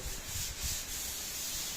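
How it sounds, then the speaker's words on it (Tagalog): Wood is hand-sanded with 220 grit sandpaper during a townhouse kitchen installation. The close, steady scratchy rubbing continues throughout with slight rhythmic surges from the back-and-forth strokes. "Ito, pangalawang liha na. Same grit pa rin yung 220 na sandpaper."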